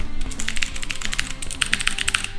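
Rapid, crisp clicking of computer keyboard keys typed close up, a steady run of separate taps with almost no background.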